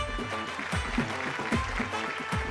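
An audience claps at a Malayalam TV game show, a fairly loud burst of rhythmic clapping that carries on steadily, with some voices underneath.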